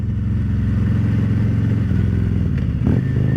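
Motorcycle fitted with RCX slip-on exhausts idles with a loud, steady deep rumble, then blips the throttle near the end for a brief rev that settles back to idle, close by with no talking.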